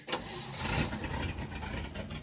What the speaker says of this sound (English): Let's see if it'll fire up real quick.